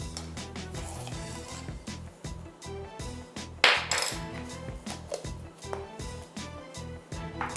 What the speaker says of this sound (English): So we're going to mix all the dry ingredients first